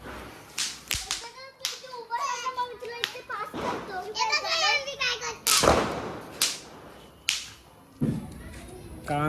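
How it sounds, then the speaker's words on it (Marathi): Firecrackers burst near an outdoor Diwali gathering, with several sharp loud bangs and crackles scattered among lively children's voices and talk nearby. "तर इथं आपले बारके भाऊ ना बहीण सगळे फटाके फोडतात बघा गाई."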